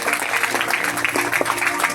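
A church congregation applauds during an anniversary service, a continuous, moderately loud clapping texture with voices mixed faintly underneath.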